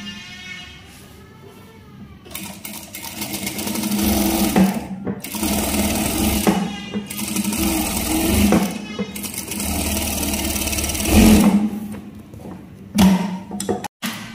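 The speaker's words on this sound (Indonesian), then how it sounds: "Kita jahit." A sewing machine stitches a seam along the side of a men's shirt cuff, running loudly and steadily for a long stretch with brief stops and restarts, close up and without talk.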